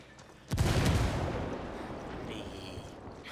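A frag grenade blast in a video game, a sharp loud boom that rolls into a long rumbling tail of debris and distant gunfire, with a faint voice underneath.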